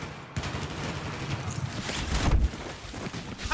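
Glock pistol gunfire in Battlefield 4 rings out as a dense run of sharp shots and impacts, one after another, with a heavier burst near the middle and busy game noise underneath.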